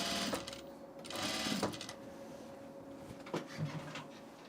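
Sewing machine stitching a 1/8 inch seam at the top of a dress facing, running in two loud bursts of steady whirring, then a softer clatter of handling near the end; no talk.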